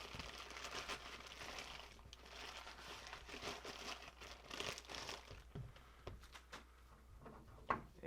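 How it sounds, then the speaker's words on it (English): Outer packaging being pulled off a Seiko 5 Sport SBSA061 watch box: quiet, close crinkling and rustling of wrap and cardboard, with scattered soft knocks and one sharper tap near the end. "let's get rid of the outer packaging here first"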